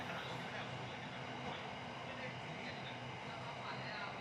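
A train rumbles steadily along with a constant, loud mechanical roar and rushing noise, heard from inside the moving carriage on the way to Don Mueang Airport in Bangkok.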